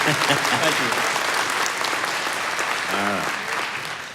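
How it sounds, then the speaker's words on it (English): An awards banquet audience claps in a loud, sustained round that slowly tapers off, and a voice briefly speaks over it near the end. "Y'all can give them a round of applause now."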